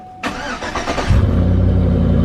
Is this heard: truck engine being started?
yes